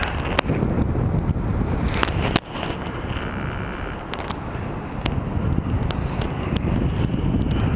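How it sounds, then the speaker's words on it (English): Steady, loud wind buffets the microphone during a first flight in a west wind, a continuous broadband rush with a sharp gust and thump near the two-second mark and no voices. "I think we got like a west wind."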